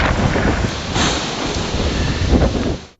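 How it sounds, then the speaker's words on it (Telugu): Heavy rain pours steadily under loud gusting wind with a low rumble of thunder during a storm in Eluru district, Andhra Pradesh, a dense, continuous roar up close. "ఏలూరు జిల్లాలో ఈదురుగాలులతో కూడిన భారీ వర్షం పడింది."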